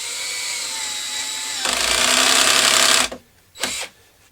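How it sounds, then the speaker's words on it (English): A drill driver sinks a pocket hole screw into a joint held in a Kreg KPHJ320 pocket hole jig: a steady motor whir, then a louder, harsher buzz for about a second and a half that cuts off, followed by one brief blip. "Make sure that the driver is in the recess of the screw and drive."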